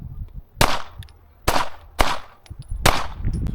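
Shadow Systems CR920X pistol fired at a shooting range: four loud, sharp gunshots spaced roughly half a second to a second apart, each with a short ringing decay, no talking.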